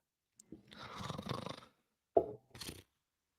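A person snoring in two bursts, a long rasping one followed by a shorter pair, close by and fairly quiet, with no talk over it.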